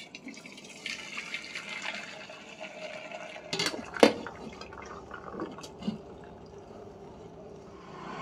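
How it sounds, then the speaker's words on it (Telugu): Starchy water is drained off freshly cooked rice in a home kitchen, a quiet trickling pour with scattered drips and a few sharper splashes midway, faint and without talk. "ఇప్పుడైతే అన్నం కూడా రెడీ అయిపోయింది, గింజ వార్చుకుంటున్నాను."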